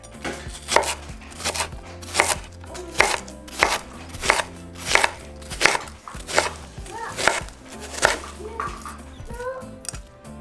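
Knife chopping an onion half on a cutting board while preparing toppings for Mexican hot dogs: a steady series of sharp, close chops, roughly one per second, with faint background voices in between.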